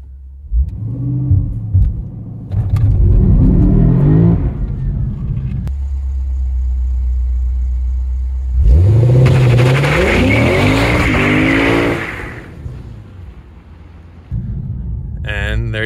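2022 Lexus RC F idling, then launching under launch control: loud engine revs build, the car holds at high rpm, then roars off in a hard, rising acceleration before easing back; a voice speaks briefly over it.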